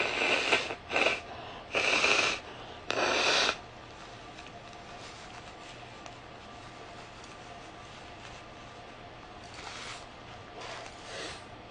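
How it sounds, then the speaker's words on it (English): A person blows their nose in three loud, close, forceful bursts in the first few seconds. Quieter sniffs and rustles follow. "hold on, let me blow my nose."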